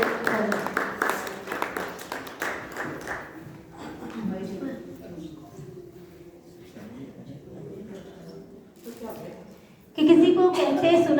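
Audience at a women's poetry gathering claps warmly for a female poet. Dense, fairly loud applause fills the opening seconds, then fades under a quieter stretch of murmuring and voices, with a louder burst near the end.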